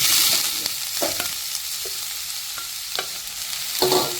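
Beetroot sizzling and frying in hot oil, with scattered clinks and scraping of a spoon stirring in a pan, close up.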